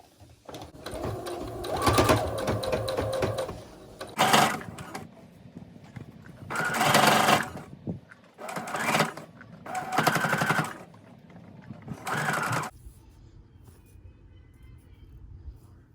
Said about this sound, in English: I'm going to use the same colored thread, and I'm gonna sew it very, very close to the edge